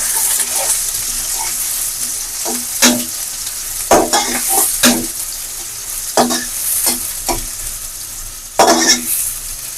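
Onions sizzle and fry in a hot pan as a spoon stirs them in scraping bursts, with a steady frying hiss underneath throughout.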